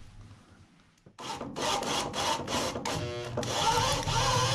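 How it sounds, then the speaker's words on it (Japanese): Drill boring bolt holes through steel plate during a DIY pillar replacement, with metal grinding against metal; a quiet start, then loud, steady whirring and grinding in repeated bursts up close. "こんな感じで穴を開けていくんですけども"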